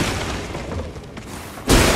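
Explosion in the Elden Ring video game, likely a thrown explosive or red barrel going off, arriving as a sudden loud burst near the end after quieter game ambience.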